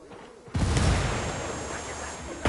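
A frag grenade blast in the video game Ghost Recon Wildlands, a sudden loud boom that rolls into a long rumbling decay before a second sharp hit near the end, with no talking.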